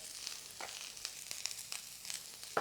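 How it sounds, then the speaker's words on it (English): Vegetables sizzle and char in a hot wok, a steady bright hiss with occasional pops and crackles as they are stirred, close and continuous with no talking. "You want to get a nice sort of slight charring on this veg before you add your crispy cauliflower to the wok"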